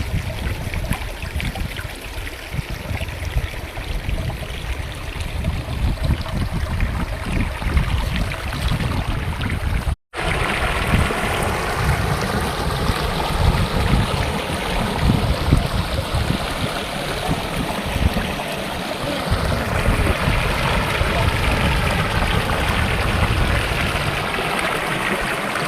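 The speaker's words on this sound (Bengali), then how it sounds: "জলের আওয়াজটা কত সুন্দর। এই হচ্ছে ধারা ফলস।" Dhara Falls waterfall near Shimultala, a steady, full rush of flowing water that stays loud and close throughout, broken only by a brief cut, with no voices.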